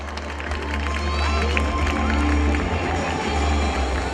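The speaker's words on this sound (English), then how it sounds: "Parents, they need a louder applause." A big audience at a school annual day celebration claps and cheers continuously, a dense wash of hands with scattered shouts over a low rumble throughout.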